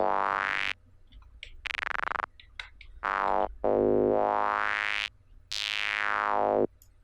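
Sustained buzzy bandpass-filtered saw-wave synth pad tones with bright sweeping filtered tops, played in several separate held notes with short gaps, loud and alone.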